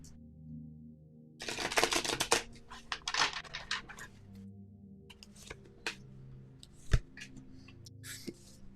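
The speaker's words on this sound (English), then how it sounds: "I'm still shuffling for Celeste." Tarot-style cards shuffled for a live reading give a run of crisp riffling clicks and flutters, loudest early on, then scattered card snaps and taps over a low background hum.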